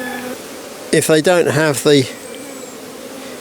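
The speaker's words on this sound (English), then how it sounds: "There's lots of bees on there" Honeybees buzz on a frame from a queenless hive, a steady low hum running under a man's nearby speech.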